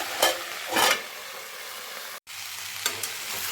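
Winter vegetables with halved green chillies sizzle steadily in a covered pan, with a couple of brief, louder bursts of crackling and a short dropout partway through.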